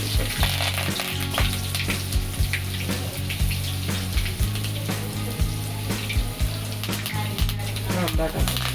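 Garlic frying in hot oil with mustard seeds and cumin, a dense continuous crackling sizzle heard up close, with a low steady hum running beneath it.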